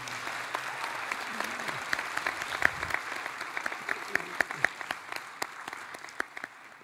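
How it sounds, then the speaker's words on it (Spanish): At a university inauguration event, an audience applauds with sparse, distinct claps that sound fairly distant and gradually thin out. "un aplauso a todas las mujeres que ya nos gobiernan"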